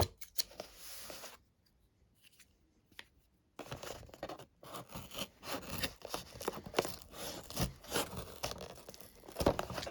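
Scissors cutting into a cardboard product box, with a quiet start and brief silence before a run of close scraping, tearing and scratching strokes that grow louder and more irregular toward the end.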